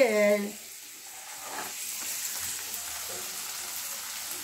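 Dry-roasted semolina hits a hot pan already holding curry leaves for upma, giving a brief loud sizzle that settles into a soft steady frying hiss.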